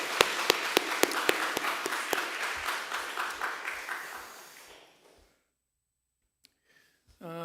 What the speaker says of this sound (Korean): 우리 집사님 위해서 박수 한번 해주시죠